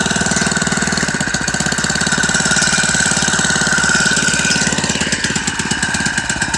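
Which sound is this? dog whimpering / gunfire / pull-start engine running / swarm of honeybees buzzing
pull-start engine running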